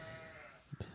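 A person's voice imitates a sheep's bleat in two quick bursts near the end, over a steady low background hum.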